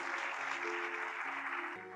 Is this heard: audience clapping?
yes